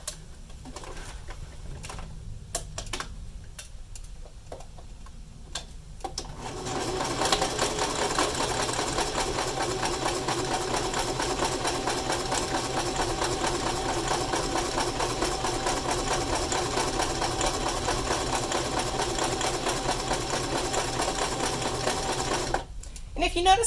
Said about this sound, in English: I will run a seam on my sewing machine.